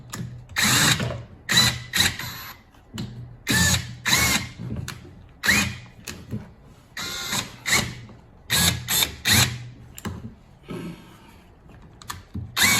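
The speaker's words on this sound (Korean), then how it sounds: "그래서 드릴로" A power drill used to assemble a Mitsubishi 43TB: repeated short, loud whirring bursts with brief pauses between them, close up, with no talking.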